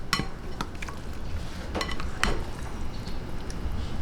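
Pork ribs being mixed by hand in marinade in a bowl: close, wet squishing and stirring with a few light clinks against the dish, steady and alone without talk.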